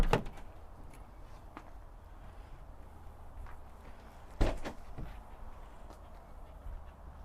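Rear back doors of a 2022 Entegra Launch 4X4 motorhome being opened, heard as a latch click at the start and a louder clunk partway through, with quiet handling noise in between.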